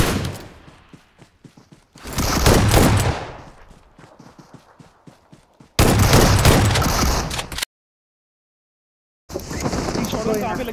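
Loud bursts of rapid gunfire from Battlegrounds Mobile India during a BGIS tournament match, coming in several separate volleys with a short silent gap, while players talk over the shooting.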